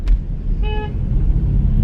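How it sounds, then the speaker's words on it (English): A car horn honks once briefly in street traffic, a short toot over steady road rumble and passing vehicle noise. "They're honking at all of them over there."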